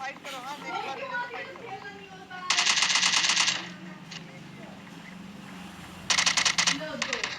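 Automatic gunfire rattles out in two loud rapid bursts during a battle royale match, over constant in-game sound and someone talking throughout.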